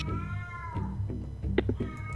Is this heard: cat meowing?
yes